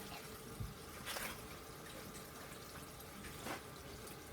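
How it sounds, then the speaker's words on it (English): Warm tap water runs steadily into a sink while collard greens are washed, a constant close hiss with a few louder splashes as the leaves are moved under the stream. "I just like warm water on my hands."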